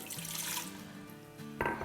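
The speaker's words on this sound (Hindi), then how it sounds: "अब इसमें हम डाल देंगे 1 कप पानी" One cup of water pours steadily into an Instant Pot for a mango aam pana drink, a continuous splashing stream heard alone and close, with a brighter splash near the end.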